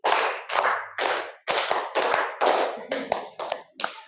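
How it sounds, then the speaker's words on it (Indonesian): Group hand clapping in a counted classroom ice-breaker game, with a steady series of crisp, loud claps in short bursts, the later ones quicker and lighter, and no talking. "tepuk 3 2 kali"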